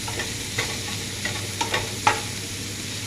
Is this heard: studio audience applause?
no